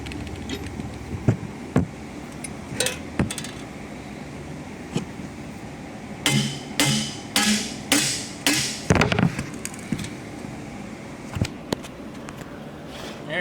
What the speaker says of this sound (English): it's not budging, so let's put the hammer on it.